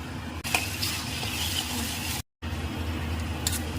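Grated raw mango frying in hot oil for mango pulihora, a steady soft sizzle with scraping stirring sounds throughout, broken by one brief silent gap.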